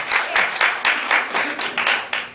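Comedy-club audience at a stand-up show clapping in answer to the comedian, a dense, continuous patter of many hands with slight swells, fairly close, lasting a couple of seconds with no voices.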